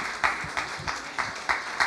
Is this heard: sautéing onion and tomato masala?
no